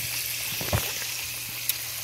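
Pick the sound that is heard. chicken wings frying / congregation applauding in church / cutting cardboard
chicken wings frying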